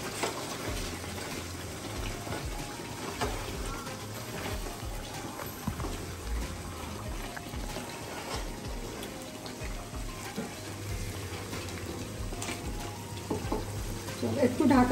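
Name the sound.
stirring crab curry in a frying pan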